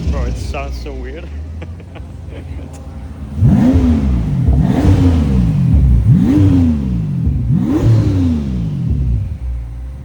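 A V12 twin-turbo Toyota Supra fitted with dual exhausts, idling deep and then revved four times in quick succession, each blip rising and falling in a loud throaty swell, with people talking over it early on.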